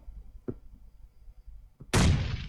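A loud blast in the PUBG Mobile game suddenly erupts near the end, preceded by a couple of faint distant thumps, the last one booming and slowly decaying.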